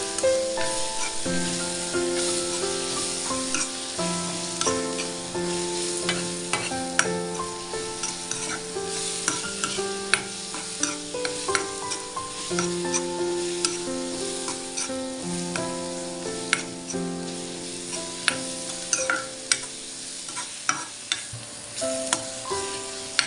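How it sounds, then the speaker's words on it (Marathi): Coarse ginger, garlic and coriander kharda paste sautéing in a pan for sesame kharda chutney, a loud steady sizzle with constant rhythmic spatula scraping and tapping close up for the whole stretch, no talking. "आलं लसूण कोथिंबीरचं खरडा जाडसर वाटलेला आहे टाकून घेऊया आपण असं परतून घ्यायचं आहे आपल्याला"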